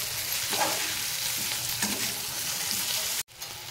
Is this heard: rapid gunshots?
no